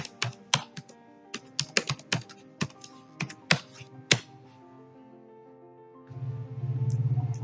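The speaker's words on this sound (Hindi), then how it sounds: "लैब सॉल्यूशन में लॉगिन करेंगे, enter your user ID and password." Keystrokes on a computer keyboard entering a user ID and password into Shimadzu LabSolutions software, a dozen or so crisp, close taps at an uneven pace, followed by a low hum near the end.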